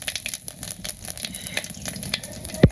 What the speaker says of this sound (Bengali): তো তেজপাতা দিয়ে দিলাম, জিরে বাদাম দিয়ে দিই